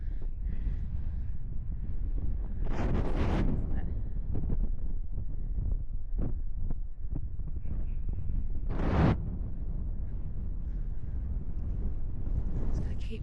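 Chilly wind gusts buffet the microphone on a hillside during a solo hike, a low rumbling roar with louder blasts and a person talking in between.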